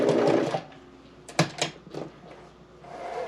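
A sewing machine back-stitches a fabric place mat in a few short, close mechanical bursts separated by brief pauses.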